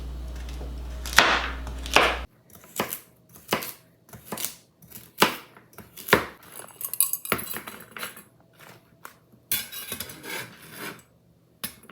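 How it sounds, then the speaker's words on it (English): A knife slices carrots into round coins on a cutting board, a quick run of sharp separate chops and taps with short pauses between them, close and alone with no talking. "I'm going to cut up these carrots just in little round circles"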